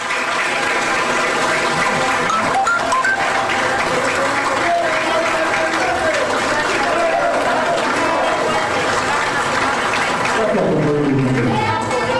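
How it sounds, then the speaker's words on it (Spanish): Sustained, dense applause from farmers honoring fallen martyrs of the land struggle, gathered in a university hall, holding steady throughout before thinning slightly near the end. "iniciamos escuchando los aplausos a los mártires"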